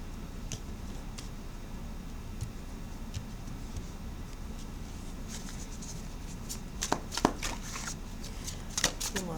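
Tarot cards being shuffled and handled, soft papery rustling with scattered sharp flicks and snaps that grow denser near the end, close and fairly quiet against a low background hum.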